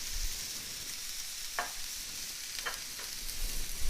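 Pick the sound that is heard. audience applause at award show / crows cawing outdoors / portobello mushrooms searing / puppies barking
portobello mushrooms searing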